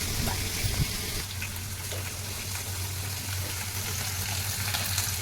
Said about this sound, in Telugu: మొత్తం చేపలన్నీ వేపేసాను.